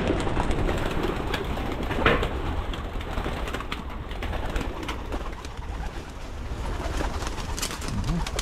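Racing pigeons coo steadily at the loft, a dense, close murmur of overlapping soft calls with occasional wing flutters and rustling throughout.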